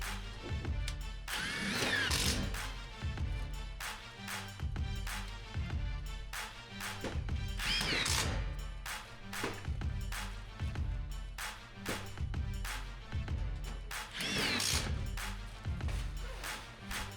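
Power drill driving 1.5-inch metal screws into pre-bent metal fascia during a garage build, with repeated short whirring bursts and rattling impacts in a steady rhythm, close and loud throughout.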